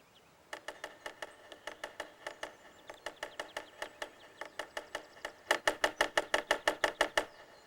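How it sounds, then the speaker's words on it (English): Rapid bursts of sharp wooden knocks from a woodpecker, several quick drumming rolls in a row, the last one louder and faster, with faint background ambience. "See? It's a woodpecker."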